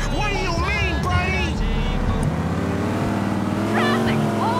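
Car engines from Grand Theft Auto traffic during a police chase drone steadily throughout, with shifting engine tones layered under overlapping voices and game effects.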